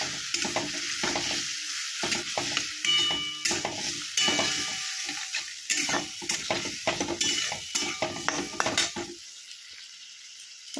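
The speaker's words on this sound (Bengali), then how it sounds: "এবার আমি বেগুনগুলো দিয়ে দেবো।" Eggplant pieces stirred into a sizzling pan of kajli fish curry with potatoes and spices, with repeated scraping spoon strokes and clinks against the pot over steady frying, then the sizzle continues alone near the end.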